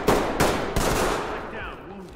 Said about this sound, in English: they're in a firefight